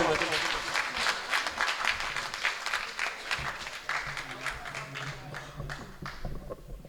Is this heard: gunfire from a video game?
no